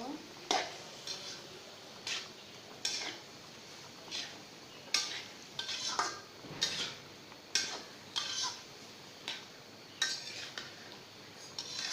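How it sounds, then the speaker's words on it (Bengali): A spoon stirs papaya pieces in a cooking pot for a mung dal and papaya curry, giving a series of separate metallic scrapes and clinks at an uneven rhythm, close and fairly quiet. "পেঁপেটা দিয়ে দিলাম পেঁপেটা একটু নেড়ে দিব"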